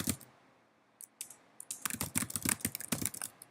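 Text is typed on a computer keyboard, with a few isolated keystrokes followed by a quicker run of close, crisp clicks and no speech.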